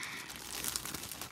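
A plastic bag holding trim in gypsy colours is handled at close range, giving soft continuous crinkling and rustling with a few louder crackles, heard alone with no talking.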